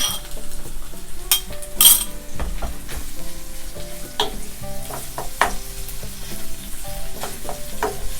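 Canned fish, broken into small pieces, stir-fried in a pan with egg: steady close sizzling throughout, with frequent sharp clinks and scrapes of a utensil against the pan at an irregular rhythm, no talking.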